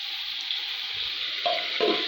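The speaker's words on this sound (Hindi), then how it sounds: "ये गाइस अब हम डाल देंगे 2 बड़ी साइज के टमाटर" Two large tomatoes go into a hot pan already frying onions and garlic-ginger paste, giving a steady close sizzle with a couple of brief thuds and a flare of crackling as they land.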